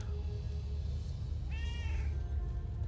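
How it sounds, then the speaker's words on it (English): A cat in World of Warcraft gives a single short meow, heard once over a steady low droning game background with no talking. "I hear a cat."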